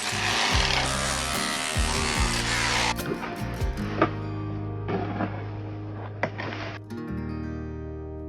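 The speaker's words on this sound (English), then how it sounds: "Just going to chisel this little bit." Hand chiselling at layered waterproofing on a retaining wall for a green roof home, rough scraping and rasping up close, then a run of irregular knocks and scrapes.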